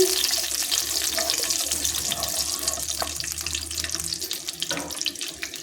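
Shahjeera (caraway) seeds sizzling in hot oil in a pan while making Sunday chicken fry, a steady close hiss and crackle throughout with no talk.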